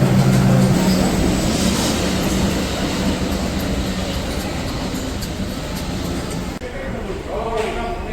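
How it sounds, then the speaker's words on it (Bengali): Kolkata Metro train rumbling into an underground station platform, a steady broadband roar throughout with a brief tonal whine near the start, voices murmuring beneath it. "যে আমাদের মেট্রো ঢুকলো এই পাশে।"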